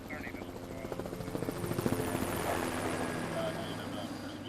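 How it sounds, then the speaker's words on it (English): A helicopter circles overhead in a neighborhood, its rotor chop steady and fairly close, swelling slightly then holding, with faint background noise. "Helicopters circled overhead."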